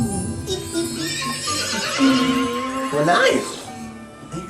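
A horse whinnies loudly and drawn out, its neigh rising and falling over several seconds, with hoofbeat clip-clops and a voice talking over it.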